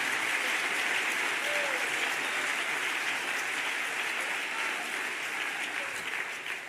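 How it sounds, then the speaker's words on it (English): A church congregation claps hands together in steady, dense applause that fills the room, holding strong throughout and easing slightly at the end. "Somebody clap your hands here a second."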